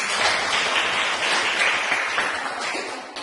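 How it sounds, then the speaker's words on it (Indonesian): A classroom group gives sustained, dense applause for a student's answer, many hands clapping steadily and close by for about three seconds before it begins to fade. "Tepuk tangan."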